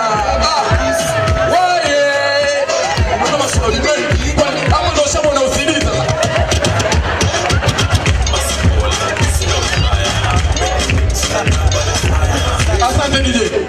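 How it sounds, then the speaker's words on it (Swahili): Audience at a comedy show clapping and cheering, dense applause with whoops and crowd noise throughout, mixed with shouting voices and background music. "Jamani makofi mengi sana ya heshima."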